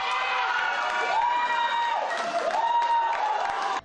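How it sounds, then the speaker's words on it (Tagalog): Fans at a tennis watch party in a Pasig City sports bar cheer an Alex Eala point, with loud sustained shouting, whoops and clapping that swell and hold before cutting off abruptly at the end. "Walang tigil sa hiyawan at palakpakan sa tuwing makakapuntos si Ayala"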